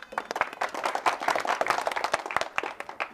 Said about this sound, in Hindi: हम चाहेंगे कि जनता अपने लिए एक ताली जरूर बजा ले